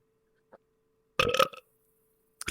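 A single short, loud burp rises out of near silence during a podcast recording, with faint brief noises before and after it.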